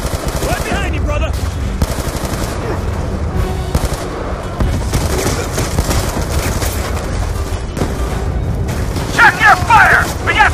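Machine gun fire and heavy gunshots in the Black Ops 2 campaign, a loud sustained barrage with booms and mechanical clatter, with shouted voices in the mix.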